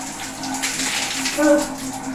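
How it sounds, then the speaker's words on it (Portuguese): Water runs steadily while hair is being washed, a continuous close rush of spray or tap flow with a brief brighter swell near the end. "Agora vamos lavar o cabelo, molhar o cabelo"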